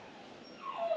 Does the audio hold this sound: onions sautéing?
no